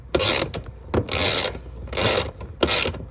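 A ratchet tightening a part on the fuel filler door of a 1993 Cadillac Fleetwood Brougham, heard as four close, loud bursts of rapid clicking rasp separated by short pauses, with no talking.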